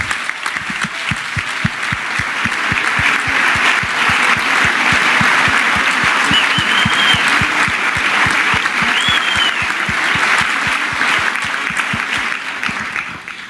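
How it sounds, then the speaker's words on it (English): A room full of people applauds staff at a Connecticut Republican party event, with loud, sustained clapping from a large audience that holds steady for the whole stretch. "I want you to give them a great round of applause"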